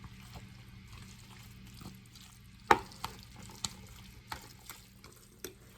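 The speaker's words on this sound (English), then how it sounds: "I'm going to stir this up." Stirring tuna salad with mayonnaise in a bowl, heard as a run of soft, quiet scraping clicks at irregular intervals over a low steady background hum, with no talking.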